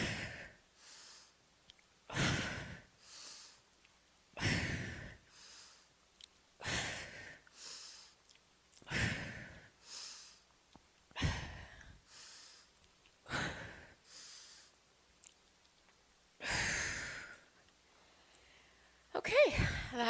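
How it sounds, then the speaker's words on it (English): Heavy exhaled breaths during a back and biceps strength workout, roughly nine forceful breaths spaced every two seconds or so, close and fairly loud with silence between them. "exhale to come up"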